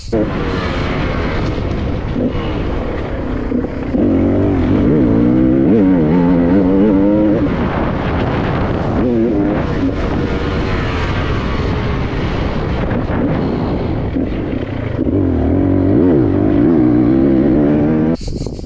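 Onboard ride on a 2026 Beta X-Pro enduro motorcycle, its engine droning loud and steady with repeated rises and falls in pitch as the throttle opens and closes throughout, no voices present.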